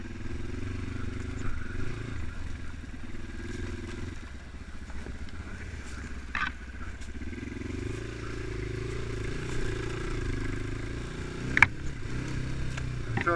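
Progasi Gaudi 300 motorcycle riding along, a steady low engine drone with road and wind rumble throughout, a couple of brief clatters near the end.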